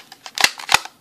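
A Nerf blaster cocked by hand, giving two sharp mechanical clacks close up, each with a few lighter plastic clicks and rattles around it, and no voice.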